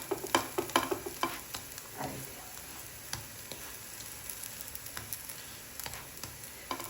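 Flour-free tikki patties pan-fry with no oil, giving off a soft, steady sizzle with a cluster of scraping clicks early on, then quieter crackles.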